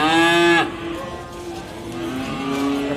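Calves at an animal market in Sukorejo, Kendal, with one loud, close, drawn-out moo at the start and then a fainter second call, over a busy background murmur of people.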